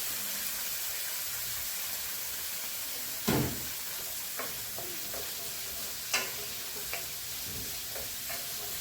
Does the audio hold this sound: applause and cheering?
no